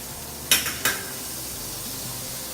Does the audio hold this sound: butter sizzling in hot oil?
yes